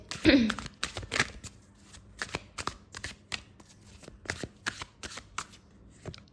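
Tarot cards being shuffled up close, a run of crisp riffling and flicking bursts repeated through the clip, with brief soft voice at the start.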